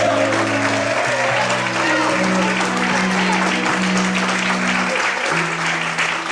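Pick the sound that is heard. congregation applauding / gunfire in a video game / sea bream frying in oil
congregation applauding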